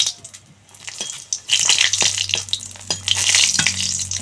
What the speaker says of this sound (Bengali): দিয়ে দিচ্ছি শুকনো লঙ্কা,